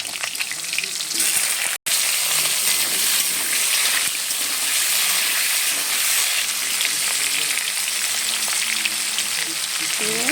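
Potato pieces fry in hot oil seasoned with bay leaf and cumin, a steady loud sizzle and hiss lasting throughout with faint stirring scrapes.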